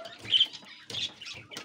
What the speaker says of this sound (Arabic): تحت هان نفس الكلام عند الطيور. السمان الأبيض.